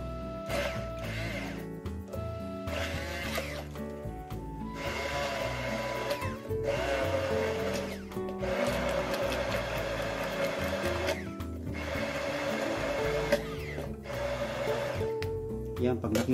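A blender whirs in steady bursts, blending garlic and oil into a Lebanese garlic sauce (toum), starting and stopping several times, with a person talking over the motor noise.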